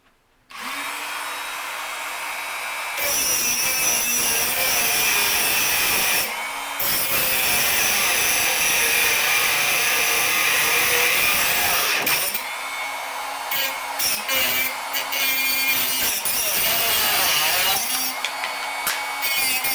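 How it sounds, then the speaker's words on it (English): Dremel rotary tool with a cutoff wheel slicing off a machine screw head, a high shrill grinding whine in several bursts of a few seconds each, with the motor's lower hum idling between cuts. "The way I'm going to do it is with a cutoff wheel in a Dremel."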